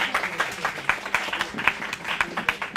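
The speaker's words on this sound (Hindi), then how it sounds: "एक बार जोरदार ताली दें प्रतीक के लिए" An audience of Delhi University students claps for Prateek at a Hindi literature event, giving loud, rhythmic applause with sharp individual claps that rise and fall in waves.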